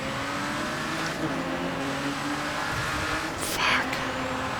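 A Nissan Skyline's engine drones steadily in the Grid 2 racing game, a continuous mid-level hum with shifting tones, briefly overlaid by a short burst of noise near the end.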